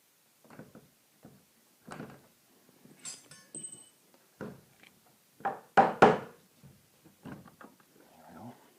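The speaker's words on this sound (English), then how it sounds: "Okay, so I'm just going to tap those in 3/4 of the way." Hinge pins are tapped down into the hinges of an interior door, giving a close series of short, light knocks at an irregular pace with brief pauses between strikes.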